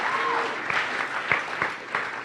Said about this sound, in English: You guys give them a round of applause